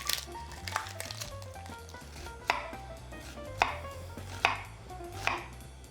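A knife minces an onion on a cutting board while a Mediterranean rice bowl is being prepared, giving a series of crisp, close chops spaced unevenly at about one per second over a low background hum.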